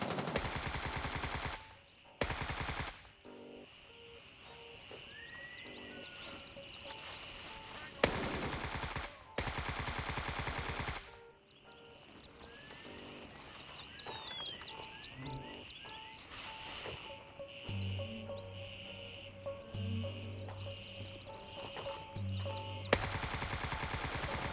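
AK rifle fire in the game Gray Zone Warfare comes as several loud, sustained automatic bursts, with quieter stretches between them carrying distant shots, clatter and background ambience.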